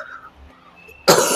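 One sharp, loud cough erupts close by after a stretch of quiet, faint background talk and room noise.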